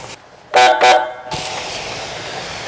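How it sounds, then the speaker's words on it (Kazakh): Two short, loud honks of a car horn sound close by, followed by a steady engine hum and background noise. "Не қайта-қайта сигнал беріп жатсың?"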